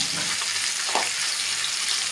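Chopped onion fries in a spoonful of hot oil, a steady, close crackling sizzle with a brief stirring scrape partway through.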